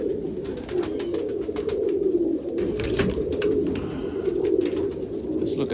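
Several hen pigeons coo continuously in soft, low throaty rolls, close by, with occasional wing flutters and scratchy clicks over the steady murmur.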